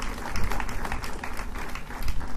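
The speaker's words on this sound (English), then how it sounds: "Everybody clap for this guy right here" A hall of fame celebration audience claps for Jim Marks: loud, dense applause filling the room continuously for a couple of seconds.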